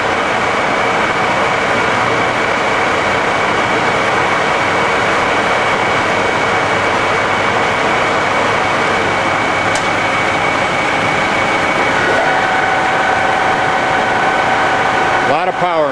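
A 1978 Cincinnati Milacron Model 550-25 VerciPower DH bed-type vertical mill runs at low speed with a loud, steady mechanical drone and whine, a tone rising near the end.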